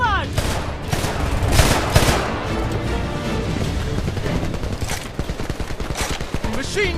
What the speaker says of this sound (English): Machine gun, second floor window!